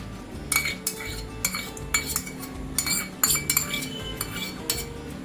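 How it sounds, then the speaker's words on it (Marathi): A spoon clinks repeatedly against a bowl while mixing chicken marinade with whisked curd for Malvani chicken, giving rapid bursts of metallic taps in an uneven rhythm. "आता याला छान मिक्स करून घ्यायचं आहे"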